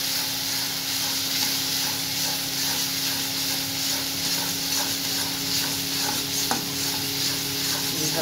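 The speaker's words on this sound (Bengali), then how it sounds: "এইভাবে এটাকে নাড়াতে হবে।" Egg curry is stirred in a pan, a steady dense sizzle and hiss with soft scraping running throughout, close and even, with one brief sharper clink near the end.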